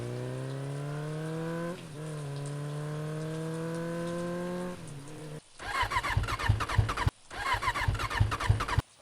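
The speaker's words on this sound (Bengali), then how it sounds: "হঠাৎ বাইকটা দু একবার ঝাঁকুনি দিয়ে আস্তে আস্তে থেমে গেল।" A motorcycle running low on fuel in the rain hums steadily, stutters briefly, then winds down and cuts out, followed by loud, rough, pulsing bursts of noise.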